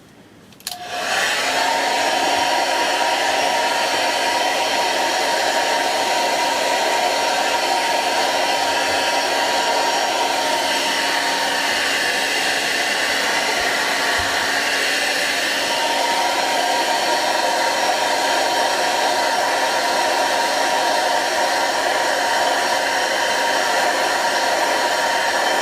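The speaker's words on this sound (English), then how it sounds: "if I dry it off using a hairdryer" A hairdryer switches on and blows steadily and loudly at close range for a long stretch, drying a wet patch left after soot removal, a constant whirring rush with a steady motor whine.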